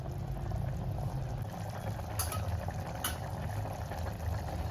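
Chicken shorba boils steadily in a pot, a constant bubbling simmer heard close up, with a couple of faint clinks and no talk.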